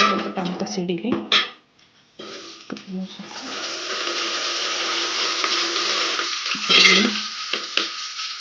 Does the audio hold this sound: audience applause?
no